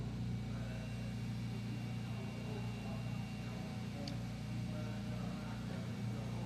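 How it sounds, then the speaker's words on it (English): Subaru race car of the Parkview Motorsport team in qualifying at the Macau road race, a steady engine drone close by and fairly loud, continuous for several seconds. "That's the car of Fonking Learn in the Parkview Motorsport Subaru"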